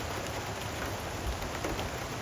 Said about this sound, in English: It is a perfectly rainy and breezy day in early June.